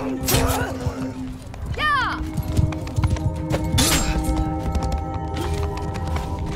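Rapid hoofbeats clatter in a steady galloping rhythm, with a horse whinnying partway through, over a busy backdrop of game sounds and music during a 60-versus-60 multiplayer siege in Mount & Blade II: Bannerlord.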